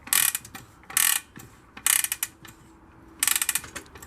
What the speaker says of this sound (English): if you twist this handle, it winds a coil